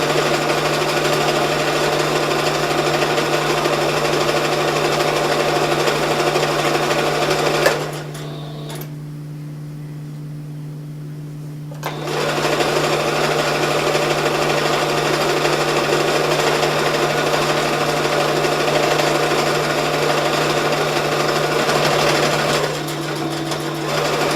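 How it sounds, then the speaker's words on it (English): Sewing machine stitching a travel pillow set, a steady loud whirring hum that runs continuously, pauses for a few seconds midway, then resumes. "If you're not comfortable using a sewing machine."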